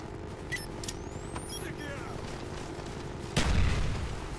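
A grenade blast in the shooter game Call of Duty Black Ops, a loud burst near the end after scattered gunfire and whizzing effects, with a broad low rumble behind.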